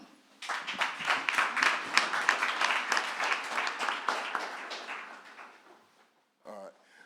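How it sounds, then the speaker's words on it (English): A town hall audience applauds the 2022 Oakland mayoral candidates with a dense burst of clapping that swells quickly, holds for several seconds, then tapers off before a brief voice. "let's give a hand clap for the 2022 Oakland mayoral candidates"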